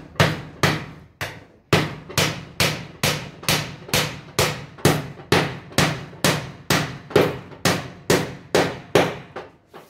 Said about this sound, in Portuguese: Eu posso pregar um prego maior.